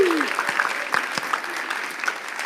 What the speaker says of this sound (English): So let's a big round of applause for that.